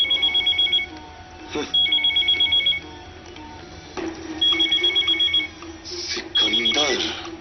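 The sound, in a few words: telephone ringing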